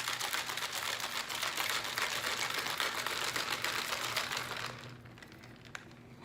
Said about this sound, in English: We're gonna give it a shake.